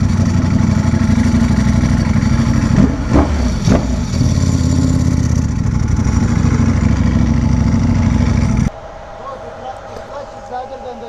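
A 2022 Ducati Panigale V4S engine running at low speed, a steady rumbling drone with a loud rattling clutch, a couple of brief louder bursts midway, then dropping to a quieter idle near the end, with voices talking over it.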